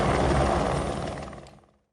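A rescue helicopter over a flooded area in the Skardu region roars loud and steady with a thick rotor and engine drone, then fades away over the final half second.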